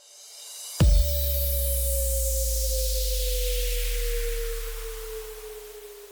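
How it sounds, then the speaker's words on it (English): A sudden hit launches a deep sub-bass drop alongside a falling note, while a bright white-noise sweep descends slowly and fades over several seconds. "And then we have a sub drop and just a regular note dropping."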